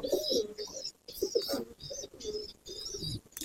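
Pigeons coo in a loft in close, repeated rounds of soft, throaty calls separated by brief pauses.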